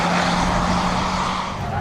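Renault Clio 197 hatchback driving on a track, its engine a steady, loud broadband drone with a low intake hum running throughout, no gaps or pauses, heard from inside the car.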